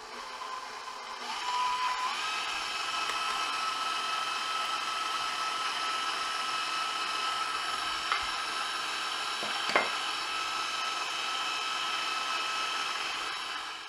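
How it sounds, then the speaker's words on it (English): An electric mixer beats creamed butter, sugar and eggs into batter for Finnish Runeberg pastries, a steady, fairly loud motor whir running throughout with a brief clunk near the end. "we're gonna start adding eggs. and then keep mixing."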